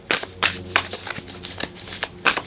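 Tarot cards being shuffled for a love reading, in a quick, uneven run of crisp riffling bursts that sound close and fairly loud, with no talking.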